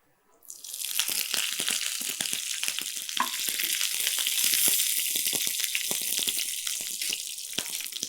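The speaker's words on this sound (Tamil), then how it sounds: "இதில் ரெண்டு காஞ்ச மிளகா நம்ம கிள்ளி தாளிச்சுக்கலாம் இதிலே கொஞ்சம் கருவேப்பிலை" Dried red chillies and curry leaves dropped into hot oil burst into a loud, bright, crackling sizzle that starts abruptly and holds steady with sharp pops, close and alone.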